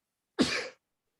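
A single short sneeze-like burst from a person in a podcast studio, close and clear, lasting well under a second and followed by silence.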